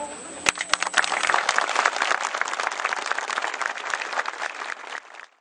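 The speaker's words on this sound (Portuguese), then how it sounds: "Ao final, palmas para o casal." A crowd breaks into sustained applause at the end of a burial for a couple at a cemetery in Ribeirão Pires, Brazil. Dense clapping holds steady for about five seconds before it quickly fades out.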